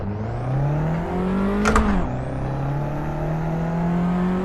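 A small Abarth 500 hatchback in the Assetto Corsa racing game revs hard at Vallelunga, its engine note climbing steadily, dropping sharply with a gear change around the two-second mark, then rising again, loud and continuous with no talk.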